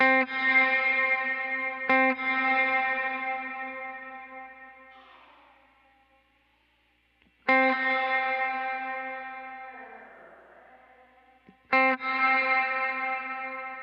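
Sustained guitar chords through a Line 6 Helix swell with a wavering, shimmering modulation and long reverb tails that fade slowly before each new strum.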